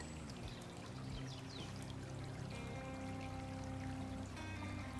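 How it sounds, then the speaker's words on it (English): A briskly flowing stream pours steadily into a water bottle through a cotton shirt used as a filter. The rushing, trickling water is continuous and close, with no talking. "because the stream is flowing pretty briskly, it will fill this water bottle"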